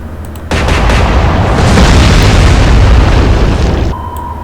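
A naval gun fires in the Atlantic Fleet warship game, a single loud boom that swells into a long, dense rumble lasting several seconds before cutting off to quiet.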